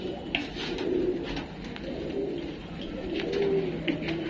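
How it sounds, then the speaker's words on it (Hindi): Pigeons in a loft coo softly and repeatedly, with low, rolling calls and some faint wing and movement noises in a close indoor space. "ये सारे ही कबूतर खोल दिए हैं,"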